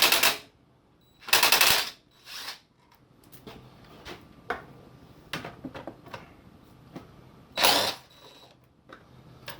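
A 10mm socket wrench ratchets while lights are taken off a 2006 Yamaha YFZ 350 Raptor four-wheeler, with short bursts of clicking and a few sharp metallic taps between quiet pauses.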